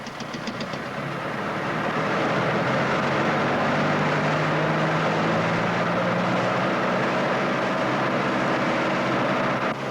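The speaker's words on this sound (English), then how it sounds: "Set throttle 1800 RPM. Bring your throttle right on up to 18." A light aircraft piston engine rises to an 1800 RPM run-up, a loud, steady close-up drone with a harmonic whine that builds over the first two seconds and then holds level.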